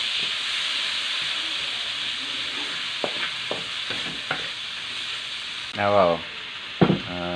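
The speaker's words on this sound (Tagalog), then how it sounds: "Ang piniritong buwad, giluto pa yung otro, gisagulan na kamatis." Dried fish (buwad) fries together with tomatoes in a pan, a constant bright hiss and sizzle with scattered soft pops and spatters, while a voice speaks briefly near the end.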